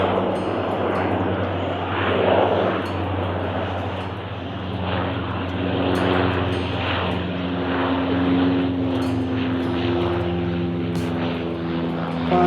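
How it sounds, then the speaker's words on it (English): A propeller airplane drones steadily overhead, its engine hum swelling and fading slightly over several seconds with no talking. "Oh, I wish you could see the airplane."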